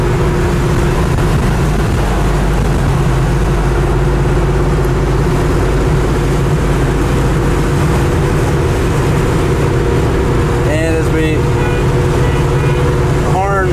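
A 1968 Chevrolet Chevelle SS 396 with its 396 cubic-inch engine cruises around a gentle bend, its loud, steady low engine drone and road rumble continuing unbroken throughout, with a few faint squeaks late on.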